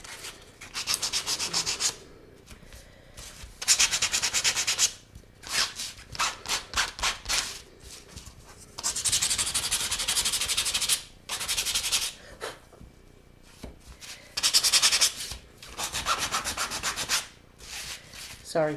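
A wooden letter has its edges sanded to distress them, giving harsh, close scratchy rubbing in repeated bursts of varying length with short pauses between strokes, with no voices.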